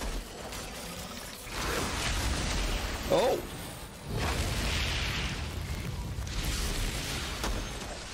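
Grenades go off in the shooter game Outriders, several deep booming blasts with rumbling tails during a fight against a big spider, with a voice talking between them.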